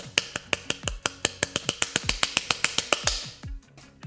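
About twenty sharp, evenly spaced claps as forearms and wrists strike together in a fast drumming exercise. The rhythm is close, loud and regular, then stops abruptly.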